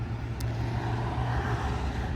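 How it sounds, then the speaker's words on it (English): Steady road traffic rumble from passing cars and trucks surrounds a parked Jeep, a continuous low drone with no distinct individual pass-bys, moderately loud and unbroken. "Sorry about the traffic noise."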